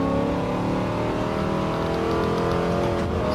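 A stock 1969 De Tomaso Mangusta on racing tyres accelerates hard in a racing video game, its engine a loud, dense, steady roar held throughout with a slight rising pitch near the end.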